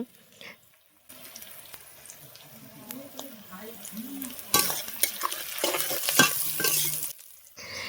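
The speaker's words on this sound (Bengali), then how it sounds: "পেঁয়াজটাও বেশ লাল লাল করে ভাজা ভাজা হয়ে গিয়েছে" Onions frying in a pan on a clay stove with a soft sizzle and stirring scrapes, growing louder and hissier partway through, with brief clinks near the end.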